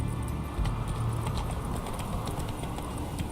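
Hooves of Roach, a horse in the Witcher 3 video game, clip-clop steadily and close at a brisk pace, with a low rumble underneath and no talking.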